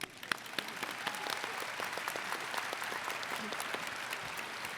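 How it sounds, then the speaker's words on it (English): Audience at a 2023 community college commencement ceremony gives steady applause for sign language interpreters, a soft, even rush of many hands clapping heard from within the hall. "How about a round of applause?"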